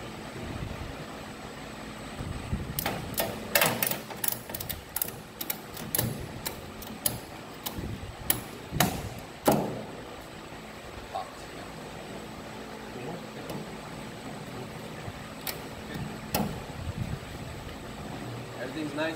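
A ratchet strap tightened around a hazmat drum during overpack training, heard as a run of sharp, close clicks with short pauses, followed by quieter background noise with occasional clicks.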